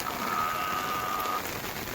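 Steady rain keeps falling outdoors during an unseasonal downpour at a cattle herders' place in Gir, a continuous even wash of drops with a faint high tone running through it and no talk.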